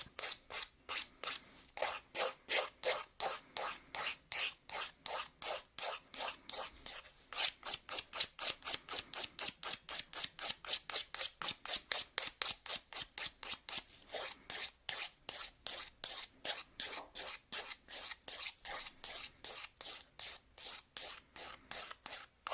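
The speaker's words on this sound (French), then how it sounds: "Je refais ma forme et je passe ma lime partout." A nail file rasps rapidly back and forth across a resin-coated nail, producing dozens of steady, even strokes at close range for the whole stretch with no talking.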